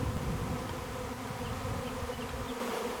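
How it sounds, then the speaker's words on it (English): A swarm of honeybees hums around backyard hives, a continuous faint buzzing drone with no voices. "But today, my bees are swarming again"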